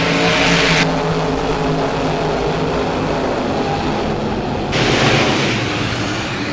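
Stock cars race at Battleground Speedway, a loud continuous roar of engines that swells as the pack passes close, with no talking.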